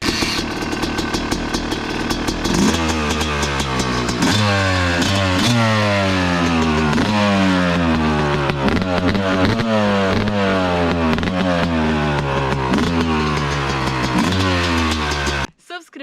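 A 2023 Yamaha YZ 250 two-stroke motocross engine revs up and down repeatedly, loud and close, with sharp rising pitch sweeps, then cuts off abruptly at the end.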